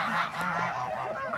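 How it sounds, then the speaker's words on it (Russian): Domestic geese honk repeatedly in a close, loud chorus of overlapping calls, continuous throughout, with no talk over them. "Гуси, гуси, гуси, га-га-га"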